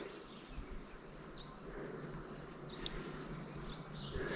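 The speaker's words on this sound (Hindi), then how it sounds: "बस चिड़ियों की आवाज़ें हैं, पक्षियों की आवाज़ें, पेड़ों की हवा के चलने की आवाज़ें, और जो कीड़े मकोड़े होते हैं उनकी आवाज़ें भी हैं।" Birds chirp and call, insects hum and wind moves through forest trees on a mountain trek to a Himalayan temple, a soft, steady outdoor ambience with scattered faint bird notes and no talk.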